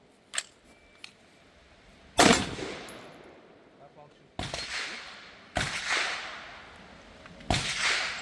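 Suppressed AR-15 rifle with an 11.5-inch barrel and Huxworks suppressor firing a few spaced single shots, each a sharp loud crack with a short decaying tail, preceded by faint clicks and handling noise.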